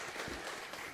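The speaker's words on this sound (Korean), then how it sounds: "영광의 박수 올리겠습니다." Congregation applause during a Sunday church service, a brief, faint, steady wash of clapping with no talk over it.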